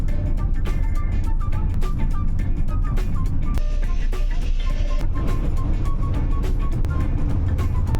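Steady road rumble from inside a van cruising on the highway, a loud constant drone of engine and tires with faint tonal sounds over it.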